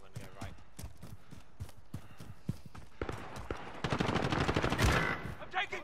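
Automatic weapon fire in Call of Duty Warzone crackles in rapid bursts, building into a dense, loud volley toward the end, with players' voices talking over it.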